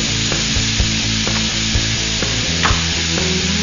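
Tomato paste browning on the bottom of a pan while making cioppino, a steady loud sizzle and fry with faint scraping stir sounds, close up and without talk.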